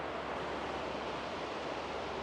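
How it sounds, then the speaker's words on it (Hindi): Fast river water rushes past a riverside spot in Tashkent, Uzbekistan, heard as a steady, close, broadband roar with no breaks and no talking. "दरिया का पानी काफ़ी स्पीड से आ रहा है यहाँ पर"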